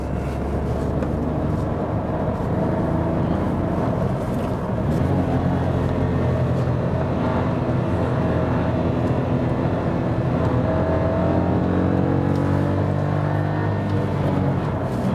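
Kia Picanto with a small engine climbing curvy hill roads, its interior drone and road noise steady and moderately loud throughout, with engine pitch shifting gradually as it drives, no talking.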